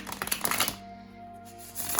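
A tarot deck is shuffled up close in a short flurry of dry, papery flicks, then gives way to a steady low electrical hum.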